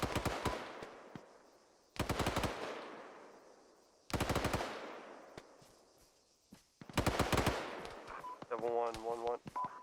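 Mounted DShK heavy machine gun in Arma firing several loud bursts at roughly two-second intervals, each a dense rapid rattle that rings out and decays. A brief electronic tone sequence follows near the end.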